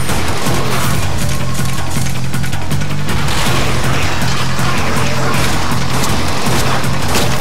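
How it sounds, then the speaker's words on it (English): A grenade blast in the zombie shooter Dead Nation, buried in a loud, dense wall of rapid gunfire, crashes and booming impacts that never lets up. "Throw a grenade."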